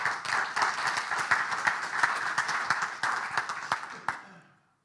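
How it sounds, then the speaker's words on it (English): An audience claps for a presenter at a professional accounting event, a dense burst of applause with distinct sharp claps standing out, steady for about four seconds before fading out quickly. "So please give a round of applause to Gerry Fahy."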